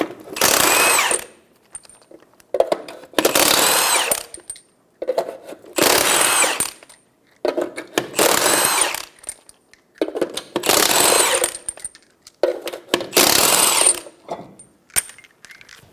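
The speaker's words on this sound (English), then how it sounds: "remove the 6 lug nuts for the tire." Socket wrench with a 21mm socket ratcheting lug nuts off a 2005-2015 Toyota Tacoma wheel, six bursts of quick metallic clicking separated by short pauses, close and loud with no talking.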